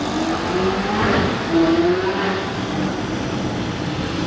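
A Ferrari 458 Italia with a Liberty Walk body kit revs somewhere in the distance, its engine roar rising and falling over a steady background hum.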